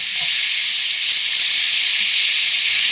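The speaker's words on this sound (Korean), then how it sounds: "팬에 그대로 팽이버섯을 올려서 볶아주고" Loud, steady sizzling hiss of enoki mushrooms stir-frying in a hot pan, constant and close, with faint stirring movement beneath.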